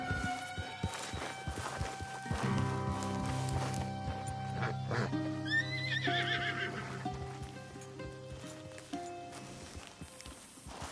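A horse in Red Dead Redemption 2 gives a loud whinny over steady clip-clopping hooves. Game music and background ambience run underneath.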